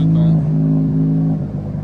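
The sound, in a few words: car engine started and running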